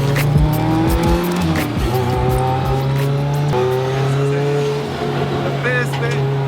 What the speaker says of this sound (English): The first bit is warming tyres.